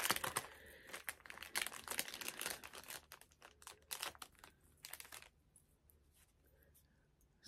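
A small plastic pack of Disney stickers is crinkled and handled up close, a dense rustling burst in the first few seconds, thinning to sparse crackles, with a voice talking over it.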